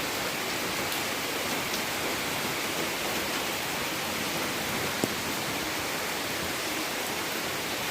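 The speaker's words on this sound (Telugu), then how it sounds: "మా వర్షం అయితే తగ్గలేదు, వర్షం అయితే అలానే పడుతూనే ఉంది" Heavy rain falls in a steady, dense hiss that fills the whole stretch without pause, close and loud, with no voices.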